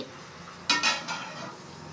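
A metal lid set on a pan of frying mutton, two or three quick clanking knocks close by over a faint background sizzle.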